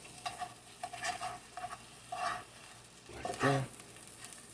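Food sizzles in a frying pan as it is flipped a couple of times: a steady close crackle broken by several short scraping, clattering utensil bursts. A voice speaks briefly near the end.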